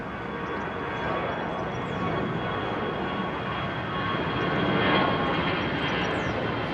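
A Qantas Airbus A380 jet comes in to land at London Heathrow, a broad, steady engine roar that swells slightly and stays loud throughout, with no talking.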